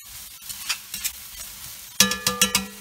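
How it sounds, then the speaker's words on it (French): Onions cooking in leftover pan juices and olive oil, soft scraping stirs at first, then a sharper burst of crackling sizzle with several quick utensil knocks near the end. "Et on va les laisser cuire un petit peu là-dedans. Donc dans les sucres et le reste d'huile d'olive."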